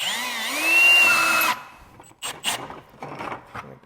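A power drill whines loudly with a rising then steady pitch for about a second and a half while drilling holes in a plastic bucket, then stops, leaving quieter scraping and clattering.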